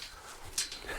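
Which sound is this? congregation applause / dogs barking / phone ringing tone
dogs barking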